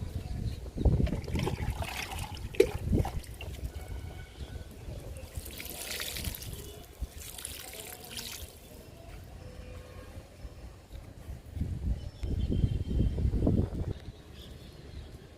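Liquid fertilizer poured from a container onto ponnaganti greens growing in a home garden, giving short, low splashing trickles in two bursts with quieter rustling between.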